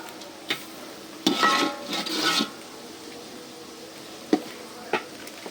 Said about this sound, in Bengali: ফ্রাইড রাইস রান্না করার জন্য এইখানে বরবটি, গাজর, ডিম এগুলি দিয়ে কষানো হইতেছে